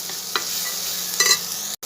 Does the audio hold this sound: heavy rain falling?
no